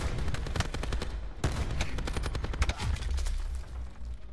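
Koshka sniper rifle shots in Call of Duty Black Ops 4, sharp cracks that repeat through dense, loud in-game combat noise with no voices.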